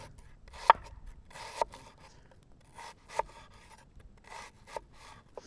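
A camping knife slices food into thin pieces outdoors, producing a series of about seven soft, separate cutting strokes with quiet gaps between them.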